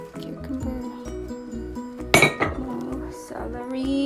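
Salad vegetables like lettuce, celery, cucumber and tomatoes mixed in a bowl, with clinks and clatters of utensils against the dish, one sharp knock in the middle, close and fairly loud.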